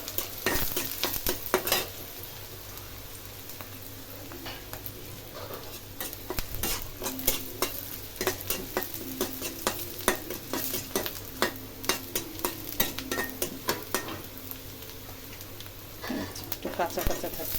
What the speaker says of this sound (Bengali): কাঁচা টমেটো ভাজি করবো